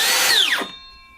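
Makita 40v cordless circular saw with the blade on the left, its motor heard loud as it winds down with a falling whine, leaving a faint ringing tone after it stops.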